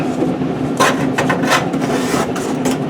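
Foundry sand shaken through a riddle onto a mold pattern, giving a dry, gritty rasping hiss in uneven bursts with a faint steady hum beneath, close by and with no speech.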